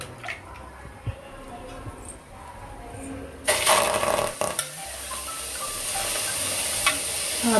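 Chicken pieces go into a hot pan with no oil and burst into a loud, broadband sizzle that continues steadily with occasional stirring clinks, after quieter kitchen sounds at the start.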